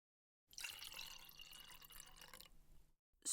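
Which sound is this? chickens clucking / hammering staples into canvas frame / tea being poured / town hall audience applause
tea being poured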